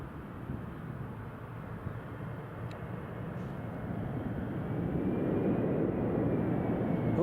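Jet airliner engines run at Newcastle International Airport, a broad steady roar that swells gradually louder over several seconds, heard from a distance with no talking.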